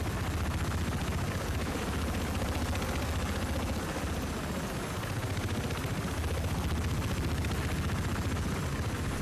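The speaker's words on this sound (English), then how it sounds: "Transport chopper feels really heavy." A heavy transport helicopter in the video game Battlefield 4 drones with a constant low rotor thrum and engine whine, steady and loud throughout, with no voices.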